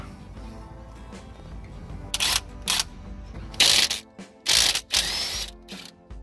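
Nuts being undone on a 1999 Toyota HiLux LN167 suspension during CV shaft replacement, a series of sharp ratcheting bursts of uneven length after a quieter start, close and loud.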